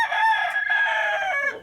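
A rooster gives one long, loud crow close by in a farmyard at morning feeding time, drawn out and fading at the end, with no talk.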